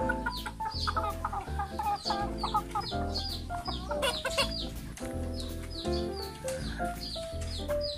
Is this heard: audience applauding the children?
no